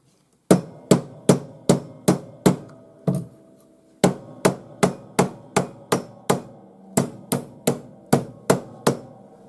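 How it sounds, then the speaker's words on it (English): Bonnie Doon urethane hammer striking a metal cuff to shape it, sharp rhythmic blows in quick regular bursts of five to seven strikes separated by short pauses, close and loud with no talk. "Bonnie Doon urethane hammer. And it's special because it's soft enough that it forms itself around the"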